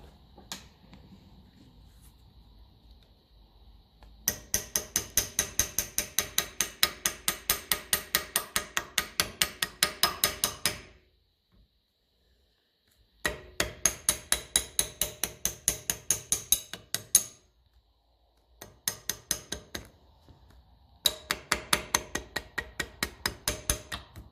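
Rapid metallic tapping on a part of a 1954 Ferguson 20 TEF diesel tractor, fast ratchet-like bursts of close, even strikes lasting several seconds each, separated by short silent pauses.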